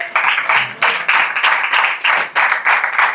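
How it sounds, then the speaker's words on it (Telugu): A church congregation at a Christmas sermon claps loudly in unison, with sharp bursts of hands beating a steady rhythm of roughly three claps a second, close and filling the room. "గట్టిగా చప్పట్లు కొట్టి చప్పట్లు కొట్టు"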